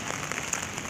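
Rain patters steadily on an umbrella during a walk outdoors, a dense close hiss of drops with a few sharper taps, continuous through the short moment with no talking.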